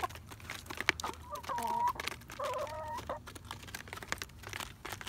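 Backyard homestead hens clucking and murmuring close by as they feed, with short repeated clucks and a few rising calls, no talk over them.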